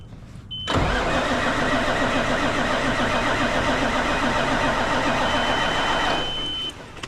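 A truck engine cranks and fires up at once, then runs at a steady, loud, rough idle for several seconds before easing off, with no voices over it.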